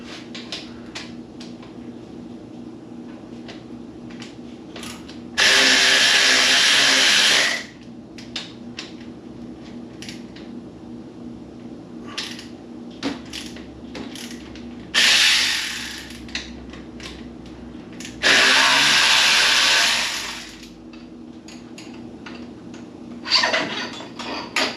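A tool loosening the lower bolts on a Honda CRF300L Rally motorcycle: loud, close bursts of several seconds each, three in all, with light clicks and metallic handling between them.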